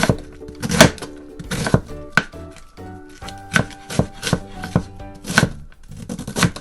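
A knife chops through cabbage on a cutting board while preparing pansit bihon, two pieces at a time, in quick irregular bursts of sharp, close thunks with brief pauses between.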